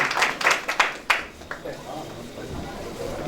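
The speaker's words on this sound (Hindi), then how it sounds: "तो जोरदार तालियां बजेगी" Scattered claps from an audience at a Hindi poetry gathering (kavi sammelan), a handful of sharp hand strikes in the first second that thin out into a murmuring crowd.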